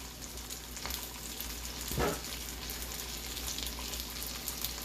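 Pierogi with noodle dough browning in a frying pan give a steady, close sizzle, with a brief scrape or stir near the middle and no talking.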